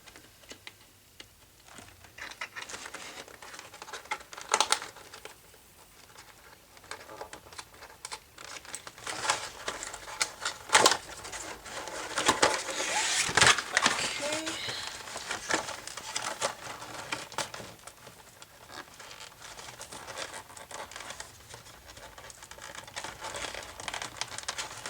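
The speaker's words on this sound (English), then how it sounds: "Looks like we need to cut some more tape." Packing tape being cut and torn off a cardboard toy box during an unboxing, with crinkling, crackling and ticking handling noises and a few sharp rips, moderately close and without talk.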